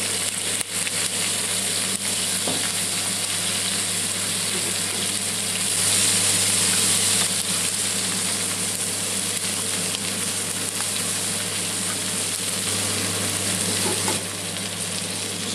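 Steak and cherry tomatoes sizzling in a pan, a loud, steady close frying hiss with a low hum underneath and a few faint clicks, no voices over it.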